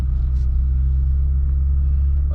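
A Lexus GS430 with a very low-slung body pulls out, its engine giving a steady, loud low rumble that holds evenly throughout, with no talking.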